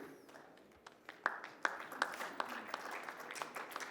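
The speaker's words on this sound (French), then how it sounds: "On peut les applaudir" Scattered claps build into light applause from a small crowd, uneven and moderately distant, growing a little denser toward the end.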